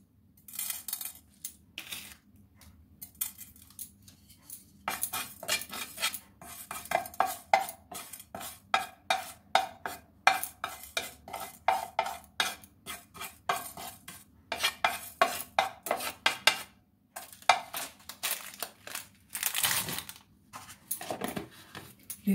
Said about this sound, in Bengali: এগুলো দেখো ড্রাই রোস্ট করে নেবো। জিরে, মৌরি,